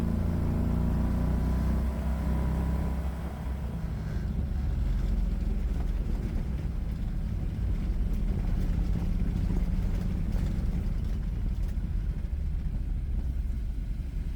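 A Renault R10 running a 670cc Predator engine with dual carburetors drones low and steady as it shifts from third to fourth gear at low speed, with wind buffeting the microphone and a brief dip in revs early on.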